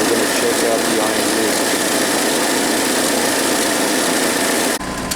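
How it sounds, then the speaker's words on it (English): An Iron Duke 2.5L four-cylinder engine idles warm in cold 48-degree weather, its steady broadband running sound carrying an intermittent misfire, loud and close, until it cuts off abruptly near the end. "Got the engine warmed up, the Iron Duke. Got a little bit of intermittent misfire here."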